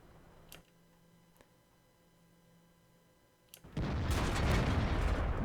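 Cannon fire from the Lowe heavy tank in World of Tanks: a few faint clicks over a quiet hum, then a sudden loud, broad blast that swells into a sustained rumble of the shot and its aftermath.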